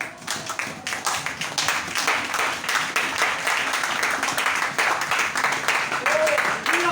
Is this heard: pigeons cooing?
no